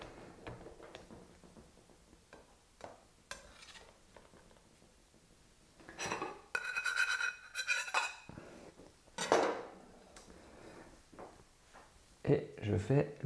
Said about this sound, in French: Allez, je coupe une petite part.